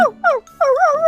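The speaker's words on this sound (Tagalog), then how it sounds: "yung aso nananahol" A dog barks at visitors in a few short, yelping, howl-like cries, close and fairly loud, with brief gaps between them.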